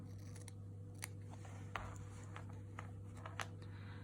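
Sharp fabric scissors cutting a quilt fabric piece along a marked line, several crisp snips spread apart over a steady low hum, close and faint.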